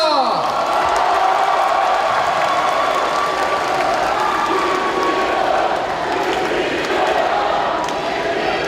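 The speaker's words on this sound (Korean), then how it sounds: "우리 모두에게 큰 박수를 보냅시다" Crowd of party members at a Democratic Party Seoul chapter political rally applauding and cheering loudly, a continuous dense wash of clapping and whoops sustained through the whole stretch.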